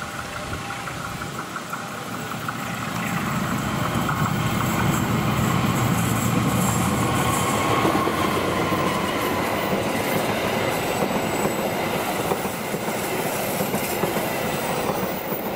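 An Indonesian passenger train rounds a big curve at Cikarang, its steady rumble swelling after a quieter start and holding loud with rail clatter and wheel squeal, no voices heard.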